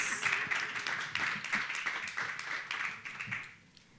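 Audience applause at a keynote celebration, a moderate burst of many hands clapping that fades out toward the end.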